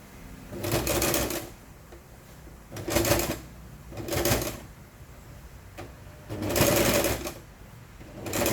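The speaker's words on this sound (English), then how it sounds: "Now switch to the zipper foot and we will sew the pocket down to encase the strap." A sewing machine fitted with a zipper foot stitches down a pocket on a large grocery tote bag, four loud bursts of rapid mechanical whirring separated by short quiet pauses, close and alone.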